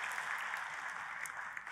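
Church congregation applauds in steady, dense clapping that sounds somewhat distant and soft, continuous with no talking over it.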